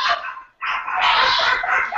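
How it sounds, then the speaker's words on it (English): A dog barks loudly and continuously at close range, a dense run of overlapping barks with a short gap around the half-second mark before the barking resumes. "That was a lot of barking."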